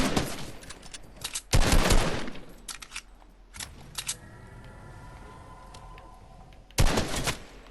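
Fortnite gunshots ring out in a one-on-one match: loud sharp bursts at the start, a heavy volley near two seconds, scattered single shots, then another loud burst near seven seconds, with no speech.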